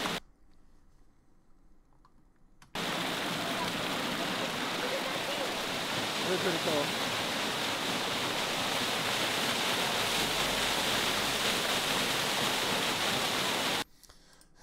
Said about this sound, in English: that real annoyingness of the waterfall sound